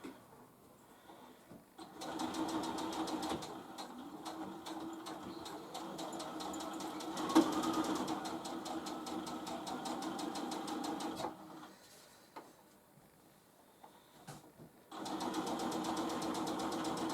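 A sewing machine stitches fabric for a fat quarter cosmetic bag in several bursts of rapid, even whirring, broken by short pauses and a faint click, fairly close and moderately loud.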